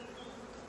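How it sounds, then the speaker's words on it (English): Honey bees swarm over the frames of an open hive, giving a brief, continuous, faint buzzing drone with no voices. "you can see lots and lots of bees on there. Really nice bees."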